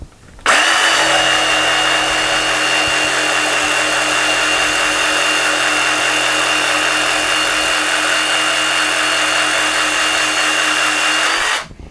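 A DeWalt DCS331B cordless jigsaw cuts through a pine 2x4 at zero oscillation with its blower running, giving a loud, steady, high-pitched whine and buzz that holds for about eleven seconds with no talk.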